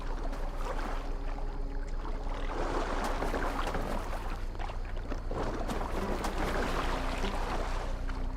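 Boat under way on water in Assassin's Creed Valhalla, a steady broadband wash of water and wind rushing continuously beneath low game ambience, with surging swells in loudness, no talk.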